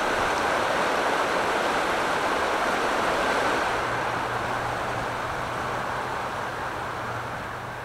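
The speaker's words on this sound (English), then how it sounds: "the sound of the river to my right" A river rushes beside a road along a remote Colorado mountain pass, a loud, steady broadband wash with no pauses and a faint low hum entering midway, heard while cycling.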